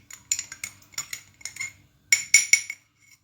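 A metal utensil stirring a honey mixture, giving quick clinks and scrapes against the container in short close bursts with a brief pause between them.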